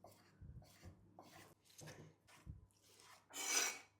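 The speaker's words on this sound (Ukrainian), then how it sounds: "куряче філе ми також нарізаємо, друзі, кубиком" A knife cuts chicken fillet into cubes on a board, with several separate thuds and scraping strokes, then a longer rasp near the end, close and quiet with no speech.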